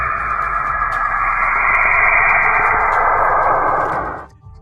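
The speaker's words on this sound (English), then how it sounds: "This is the sound of Saturn." A space sound recording of planet Saturn: an eerie, wavering electronic hiss and whistle, like radio static, steady and fairly loud, with faint clicks scattered through it, cutting off near the end.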